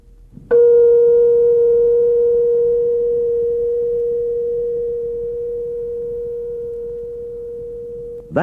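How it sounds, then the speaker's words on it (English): A struck tuning fork rings out as a steady, nearly pure tone, sounding suddenly and sustaining for several seconds while slowly fading, alone in a quiet room. "That was the sound of a tuning fork."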